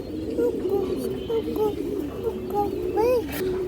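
Muslodom pigeons coo softly and repeatedly at close range, with rolling, warbling calls and a few brief higher notes over a constant low background hum.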